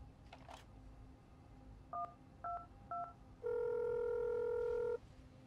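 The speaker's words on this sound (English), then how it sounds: "We'll go ahead and call the 911 or the 112." A payphone in a video game is used to dial an emergency number: three short two-tone keypad beeps spaced evenly, then a long steady tone, over faint background noise.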